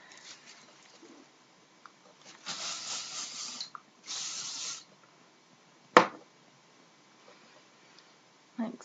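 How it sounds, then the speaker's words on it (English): Two short bursts of hairspray hiss onto loosely waved, voluminous curls, each lasting about a second with a brief gap between, followed later by a sharp knock. "and then I just spray it."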